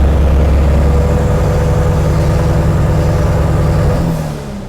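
A loud Nissan S14 RB25DET engine holds at high revs, droning steadily, then drops off and winds down in the last second.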